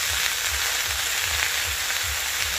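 Spinach and beetroot sizzle steadily as they stir-fry in a pan, a loud continuous hiss with a soft rhythmic scraping of stirring underneath.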